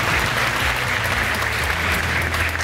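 Studio audience at a Turkish TV game show applauding steadily, a dense, even wash of clapping from many hands that fills the room, with no talking over it.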